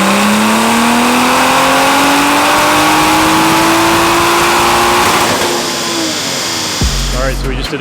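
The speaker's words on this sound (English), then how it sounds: "we just did a 6th gear backup pull, all pump gas." A BMW B58 turbo car on pump gas pulls hard in 6th gear, its engine note climbing steadily in pitch, loud and close, then cutting sharply as the throttle lifts near the end.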